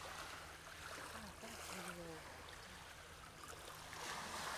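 Water laps gently at the Lake Ontario shore near Fort Niagara, a soft, quiet trickling wash with faint low murmuring beneath it and no clear speech over the outdoor ambience.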